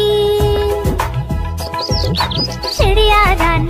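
Cartoon-style sparrow chirps in a Hindi children's rhyme, several rising tweets over bouncy music, loud and upfront.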